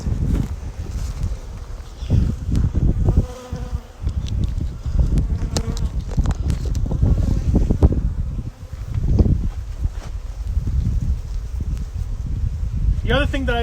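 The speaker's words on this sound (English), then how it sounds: "Lots of bees, that buzz. Listen to that buzz." Honeybees buzz densely around an open hive during a package install, a continuous close swarm drone with wind and rustling, and a person talks over it at times.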